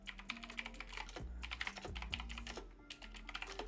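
Fingers type on a computer keyboard in quick, irregular bursts of close clicking keystrokes, with a short pause partway through and a low steady hum underneath.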